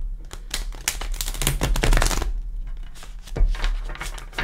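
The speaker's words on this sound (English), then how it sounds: "Give it a shuffle. All my cards already pre-shuffled" Light Seers oracle cards being shuffled by hand, with a rapid flurry of crisp riffling clicks and slaps, close to the microphone, pausing briefly before a few more flicks, under a faint low hum.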